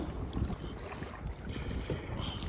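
Waves slapping against a pedal kayak crossing open water toward an island, a continuous churning wash with low thumps and heavy wind buffeting the microphone.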